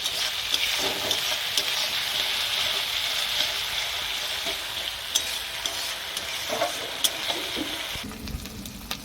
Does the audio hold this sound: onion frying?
yes